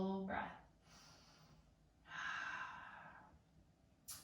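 Two slow, deep breaths during a gentle yoga pose: an audible inhale, a pause, then a long airy exhale, close and soft, ending with a short sharp intake.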